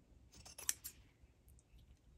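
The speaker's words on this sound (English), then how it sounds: "After sewing, you're going to trim the seam allowance and especially trim it at the corners" Scissors trimming a fabric seam allowance at shirt collar corners: a few quiet, crisp snips and clicks close by in an otherwise hushed room.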